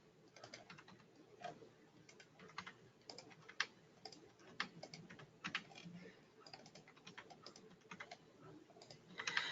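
Data values typed on a computer keyboard, a fast irregular run of close, crisp key clicks and taps with short pauses, steady throughout with no talk.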